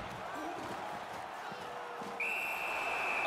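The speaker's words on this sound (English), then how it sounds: "A whistle and a rest." A referee's whistle blows sharply and sustained during a Toronto hockey game, a high shrill tone rising over arena crowd noise and skate sounds, with a commentator talking beforehand.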